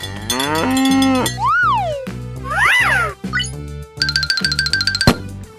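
A cow moos in a long, clear low call, followed by a series of cartoonish boings, slide whistles and chimes over a steady bouncy backing beat.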